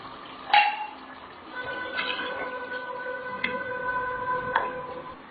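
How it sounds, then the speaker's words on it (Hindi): Chicken stock is poured into a pot of haleem, giving a soft continuous liquid splash with a few sharp metallic clinks of a utensil against the pot, close and moderately loud. "अब ये भून चुका है, अब हम इसमें यखनी डाल देंगे।"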